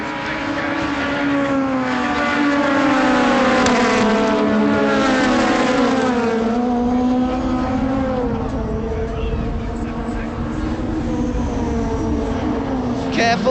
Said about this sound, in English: side by side into Redgate. Eves has the advantage. Muller can't do anything about it